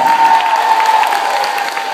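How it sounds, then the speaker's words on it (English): A school audience claps steadily for a fifth-grade art contest winner, dense continuous applause filling the room, fairly loud and close, with a faint tone running underneath. "How about a big round of applause?"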